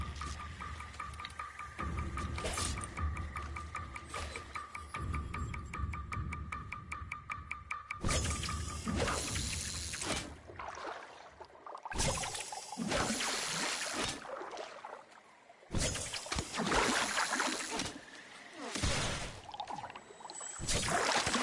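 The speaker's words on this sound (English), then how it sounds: "I can only assume that these splashes in the water indicate fish." Splashing water from fish in the game Warframe, Plains of Eidolon, heard as repeated bursts of watery sloshing and pouring of varying length against a quieter watery background, no voices.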